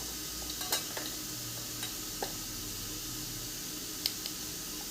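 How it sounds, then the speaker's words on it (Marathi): Potatoes and green peas sautéing with red chilli powder and black masala, a faint continuous sizzle broken by occasional light stirring taps of a spoon against the pan, quiet and close. "तर हे छान सगळं परत एकदा परतून घेऊया।"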